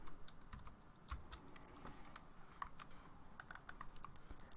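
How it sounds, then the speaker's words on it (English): Steady typing on a computer keyboard while entering a password during a Linux setup, with quick close key clicks forming a continuous irregular patter alone, no talking. "Now I need to type in the password."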